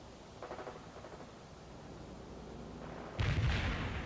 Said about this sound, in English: Firing mortars.